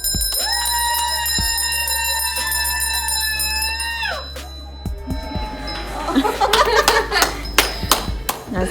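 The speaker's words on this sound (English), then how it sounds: "And then ring your bell." A bridal shop bell rings at a wedding with one long sustained tone that fades over several seconds, followed by scattered clapping and cheering from a small group.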